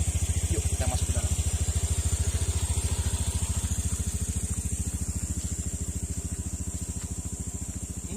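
A motorcycle engine idles at night in a dark forest, a close, steady low putter with an even rapid pulse throughout, and faint voices in the background.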